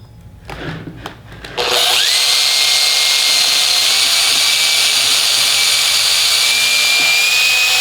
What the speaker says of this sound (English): and then drill the hole